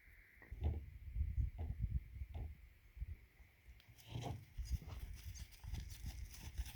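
A horse trots under a rider practising rising diagonals, its hooves landing in a steady two-beat rhythm of dull thuds, close and moderately loud, with no talk.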